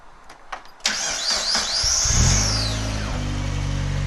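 A quiet turbocharged car engine is started up. A few faint clicks come first, then the starter whirrs with a rising sweep, and the engine catches and settles into a low, steady idle.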